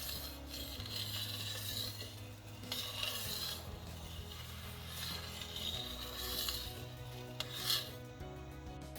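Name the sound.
stirring sugar syrup in a pot on the stove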